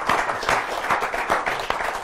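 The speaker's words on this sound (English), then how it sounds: "a round of applause for the gold medal" A small group applauds a gold medal win during a cricket podcast, steady soft clapping with a few sharper individual claps standing out, moderately distant and fairly quiet.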